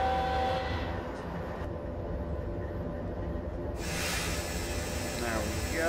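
In the Open Rails train simulator game, a train's air brakes are applied: a low, continuous engine rumble runs throughout, then a sudden loud rush of hissing air breaks in near the end.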